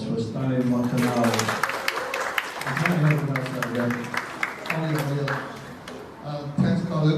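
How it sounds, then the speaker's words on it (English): Audience applause at a peace walk forum in Derry, Ireland, steady and fairly loud for several seconds, with a voice speaking over the clapping. "Big round of applause for Stanley Montanaro."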